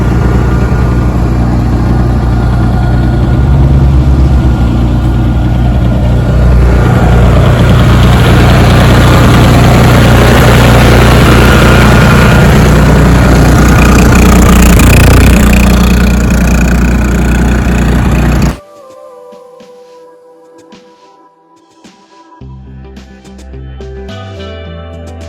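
Cummins generator idling at a campground day-use area, a loud, steady low engine rumble that runs close and unbroken before cutting off abruptly, leaving quiet background.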